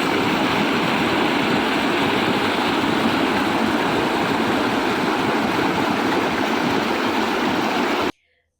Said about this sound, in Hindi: धीरे धीरे बहती पानी की आवाज, पहाड़ों के बीच इसका फ्लो